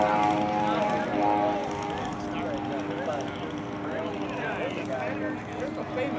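A light aircraft flies in at the Fox Valley Aero Club air show, its propeller engine droning steadily at moderate distance beneath a running announcer's voice.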